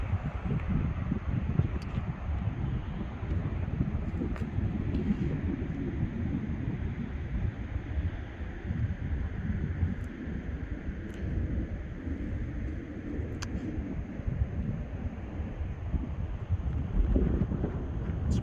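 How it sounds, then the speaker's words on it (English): Steady, roaring wind gusts buffet the microphone on a high mountain trail on Mt Baker, a continuous low rumble that swells slightly near the end, with no voices. "As I get up higher on the mountain, the windier it gets."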